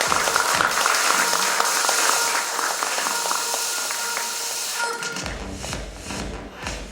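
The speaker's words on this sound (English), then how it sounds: "Let's have a huge round of applause." Audience applause at a nursing conference inaugural session in a Mumbai hotel, with sustained clapping from a crowd accompanied by shuffling and a few thuds, gradually thinning after about five seconds into room bustle.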